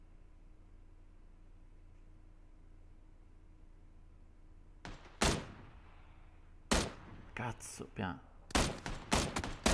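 Gunfire in the PUBG battle royale game: after about five seconds of low hum, a series of sharp, loud shots and bursts rings out, close and irregular, with someone talking in the clip.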